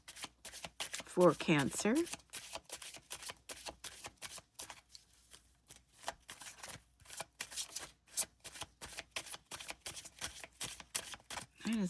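Oracle cards being shuffled for a tarot reading, a run of quick papery riffles and taps that keeps going steadily, with a voice speaking briefly over it.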